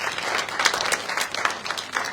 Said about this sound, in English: Please clap for Brenton Hilaire, our Chief Judge.